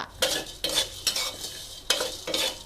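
Minced pork is dry-roasted with garlic and seasoning sauce over low heat in a pan. A spatula scrapes through it in about five distinct strokes, each with a soft sizzle, close and unhurried.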